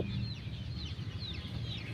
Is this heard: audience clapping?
no